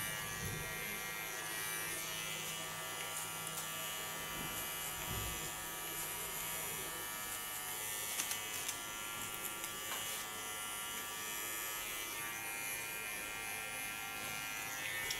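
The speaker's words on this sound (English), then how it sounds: "Take only the tip of my clipper." An electric hair clipper trims ultra-short hair, giving a continuous close buzzing hum that holds steady throughout, with faint brushing and handling noises underneath.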